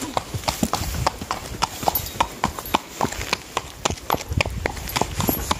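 A horse's hooves clip-clop in a quick, steady rhythm over gravelly ground during a ride, close by, with a rustling outdoor background.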